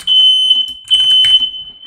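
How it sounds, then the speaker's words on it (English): A smoke-detector fire alarm goes off loud and close: a piercing high electronic tone sounding in repeated bursts, with no speech over it. "Sorry about that, it was a fire alarm."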